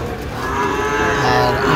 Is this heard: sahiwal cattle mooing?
yes